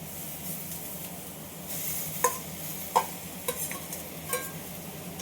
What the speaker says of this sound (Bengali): এবার আমি কুন্দিগুলো এর মধ্যে ঢেলে দেব।